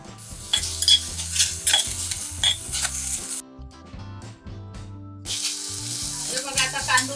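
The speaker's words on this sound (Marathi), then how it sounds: "आता या फोडणीत देऊया कांदो आणि टमाटो एकत्र" Onion and tomato sizzling in a hot tempering for a Malvani snail masala curry, stirred with clinks of a utensil against the pan, in two bursts with a short quiet gap between, no talking.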